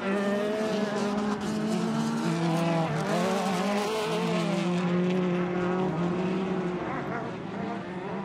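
Sportsman-class race cars at the Crandon, Wisconsin racetrack roar continuously, their engines whining and rising and falling in pitch as they pass, loud and sustained with no talk.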